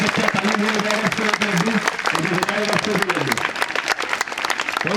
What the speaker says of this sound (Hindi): मैं बच्चों से एक बार कहूंगा कि जबरदस्त तालियां लगाएं